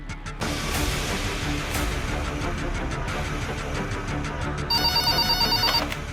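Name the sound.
telephone ringing, calling City Hospital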